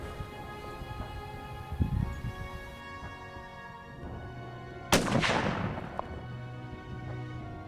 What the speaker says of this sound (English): gonna take a couple shots, make sure the gun's still dialed after traveling